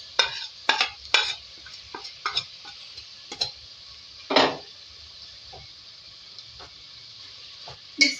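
Spoon scraping and clinking in a pan while crushed fried onion, yogurt and salt are mixed into Darbari chicken, with irregular close taps and scrapes over a faint sizzle, sparse and uneven.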